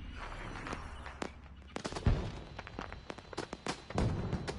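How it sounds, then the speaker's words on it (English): Loud fireworks bursting in the Watch Dogs 2 video game, a string of sharp cracks and booms at irregular intervals, with heavier thumps toward the end over a busy game background. "those fireworks are super loud, dude"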